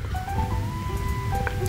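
Background music from an anime soundtrack, sustained melodic tones held steadily at a moderate level over a continuous low hum, with no talking.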